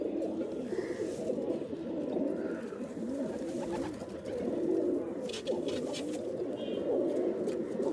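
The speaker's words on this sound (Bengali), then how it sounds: "দেখুন এই যে নটটা ডাকছে, সাদা নট, নটটা অনেক সুন্দর কবুতর" A white Rajshahi Giribaj pigeon coos repeatedly in rolling, throaty phrases, close and steady, with faint chirps of other birds in the background and no talking.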